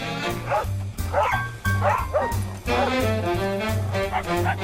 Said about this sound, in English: For dogs, social play is often a vigorous activity, involving chasing, shoving, and biting one another.